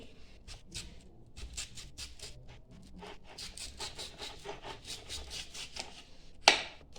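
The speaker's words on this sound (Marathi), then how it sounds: "आता कैरीचे पण मी ना बारीक काप करून घेते" Fresh raw mango from a home tree is finely sliced with a knife, quiet rapid taps and scraping strokes in uneven rhythm, ending with one sharper knock, no talk.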